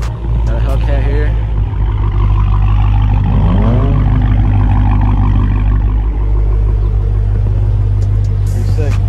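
A Dodge Hellcat rumbling past at a car cruise event, deep heavy engine drone throughout with other vehicles passing, while people talk over it.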